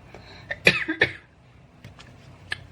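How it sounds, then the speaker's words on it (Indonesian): A couple of short, sharp coughs close by, followed by a quieter throat sound and a faint final cough in a quiet room. "Tuh jadi batuk aku ya."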